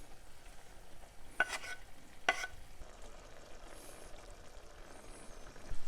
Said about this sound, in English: Add our basil and our sun-dried tomatoes.